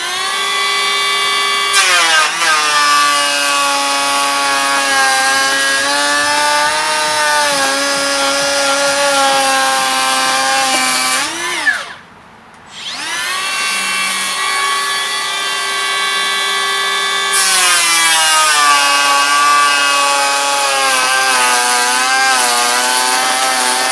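A Makita 18V brushless cordless planer whines loud and close as it shaves 3-inch rough-sawn treated timber on a 3mm deep setting, two long sustained cutting passes with a brief drop to near silence between them.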